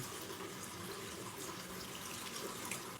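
Water pours steadily in a continuous splashing stream into a pan with pork, garlic and onion, with no talking.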